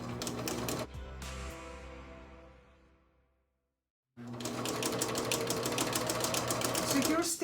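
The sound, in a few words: sewing machine stitching shirt collar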